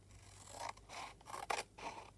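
Several crisp snips of scissors slicing through paper, close up, in short uneven bursts with brief pauses between cuts.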